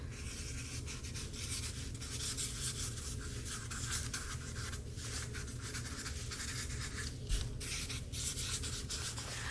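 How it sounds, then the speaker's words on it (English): A white 8mm Posca paint marker writes across paper in a steady, continuous rubbing scratch, close and fairly soft, with small strokes and pauses blending into a constant dry texture and no talk. "all I want to do to this one at this point is to do some writing with white Posca pen"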